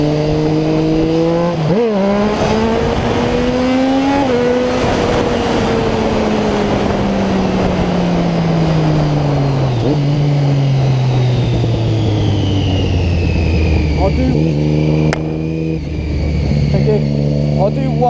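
2008–2011 Triumph Street Triple motorcycle engine revs loud and close, rising in surges as the throttle opens for a wheelie and then falling away as the bike decelerates, with a person talking over it.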